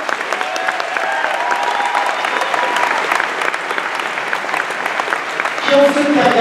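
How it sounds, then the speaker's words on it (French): An audience applauds and cheers for Éric Lavoie at a Fantasia 2013 screening party, a steady, dense crowd clapping that holds for several seconds, with a brief voice or whistle rising near the end. "Et je veux qu'on applaudisse. Éric Lavoie!"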